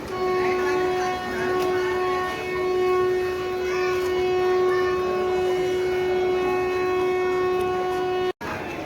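Azad Hind Express at Badnera Junction sounding a long, steady horn or siren tone over the rumble of the train, held loudly and continuously for about eight seconds before cutting off abruptly.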